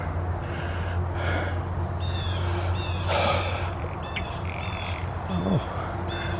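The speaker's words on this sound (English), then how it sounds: "there's a bird up there" Outdoors on a hillside in fall, a bird calls in several short, bright chirps and harsher squawks spread across the moment, set against a steady low hum and some nearby breathing and vocal noises.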